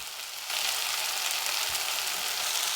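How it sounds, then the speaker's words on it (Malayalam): Spice powders for egg curry (coriander, chilli, turmeric and garam masala) sizzle steadily in an oil-filled pan, a close, continuous hiss that swells slightly as they are stirred in. "ഇതെല്ലാം ചേർത്ത് പൊടികളുടെ പച്ചമണം മാറുന്നത് വരെ വഴറ്റി കൊടുക്കാം"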